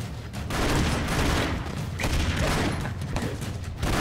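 Dense gunfire and explosions from the Broforce video game, a loud continuous barrage of rapid shots and booms with little pause across a few seconds.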